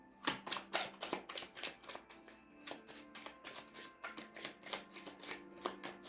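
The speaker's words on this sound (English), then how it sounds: "And 1 shuffle for Virgo." A tarot card deck is shuffled by hand, giving a rapid series of crisp riffling flicks and soft card slaps in uneven bursts, close and fairly quiet with no talking.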